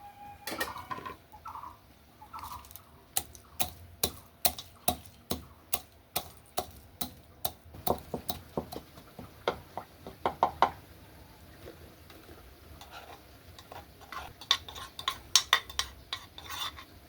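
Roasted spices are pounded into powder with a steady series of sharp, knocking thuds, close and clear, coming in irregular bursts with short pauses between.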